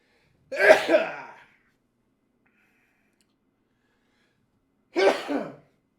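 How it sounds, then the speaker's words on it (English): Two sharp sneezes, separated by a few seconds of silence, each a loud explosive burst of breath close to the listener. "Yeah, sneeze."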